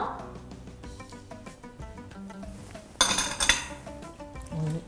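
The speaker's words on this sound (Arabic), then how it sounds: "كنخلطو مزيان حتى كنحسو بان الزبده آه، انسجمت مع السكر" Butter and brown sugar are mixed in a bowl. A utensil scrapes and clinks steadily against the bowl, swelling into a louder, busier clatter partway through.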